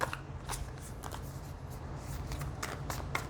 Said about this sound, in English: I want to shuffle this